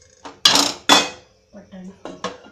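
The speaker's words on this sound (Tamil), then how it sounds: "இப்போ நான் இதை வந்து பாத்திரத்தில் வந்து மாற்றிக்கிறேன்" Boiled peas tipped from a pot into a metal vessel in a home kitchen, giving a few loud metallic clanks and scrapes with short pauses between them, up close.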